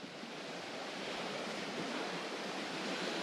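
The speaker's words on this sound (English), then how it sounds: "Next to this rushing water of a mountain stream, fed by glacial waters because it's blue." A glacier-fed mountain stream rushes steadily with a dense, continuous roar, close and loud, with no voices.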